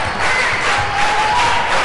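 A packed high school basketball gym crowd, standing room only, roaring and cheering in a loud, continuous wash of voices with no pauses.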